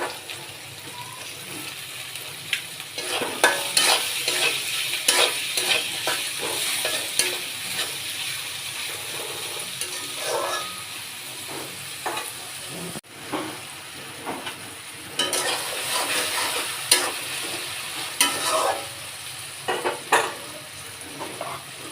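Chopped potatoes frying in a pan while being stirred: a steady sizzle runs throughout, with repeated scraping and clattering strokes that are close and moderately loud.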